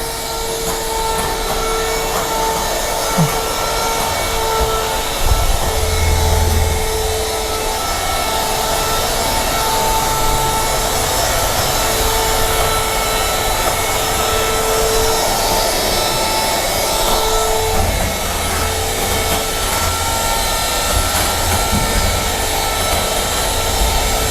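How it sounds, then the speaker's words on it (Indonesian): An electric mixer whips cake batter for an English fruit cake, giving a steady, continuous motor whir that runs loud and unbroken throughout, with no talking over it. "Jadi kita mix sampai dia teksturnya mengembang seperti ini"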